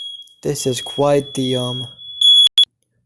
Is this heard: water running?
no